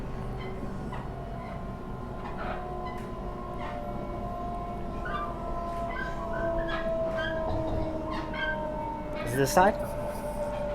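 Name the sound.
Sydney Trains T1 double-decker train running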